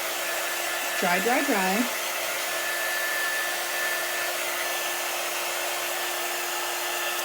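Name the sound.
hair dryer drying chalk paste craft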